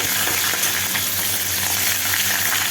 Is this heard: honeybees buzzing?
no